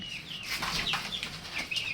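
Chickens, among them Fayoumi and Kadaknath birds kept for sale, flutter and shuffle nearby, with soft flapping-wing bursts and faint clucks that rise and fall over a couple of seconds.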